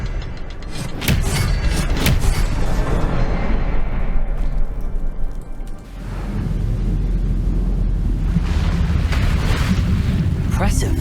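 Spell effects in the game Hogwarts Legacy, deep rumbling booms and crackling bursts rolling continuously, with a dip and swell midway, loud and dense under a spoken incantation.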